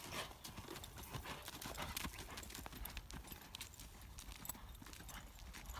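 Hooves of a horse loping in an arena during a riding lesson near barrels keep up a steady, faint, rhythmic clip-clop from start to end.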